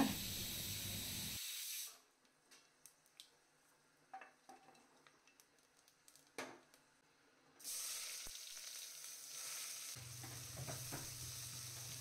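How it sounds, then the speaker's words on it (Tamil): Masala spices crackle and sizzle loudly in hot oil while tempering, then the hiss drops away to soft clinks before the sizzling surges back. "மசாலா ஐட்டம்ஸ்லாம் வந்து தாளிச்சுக்கோங்க."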